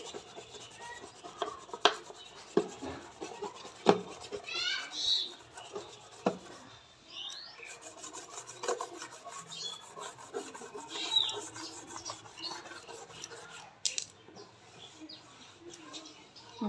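A hand brush scrubs dirt off household items being cleaned before storage, giving soft, irregular rasping strokes in short bursts, fairly close and quiet, with faint background sounds between strokes.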